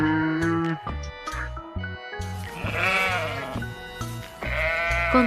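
Sheep bleating several times, wavering cries rising and falling over a light musical backing, close and clear.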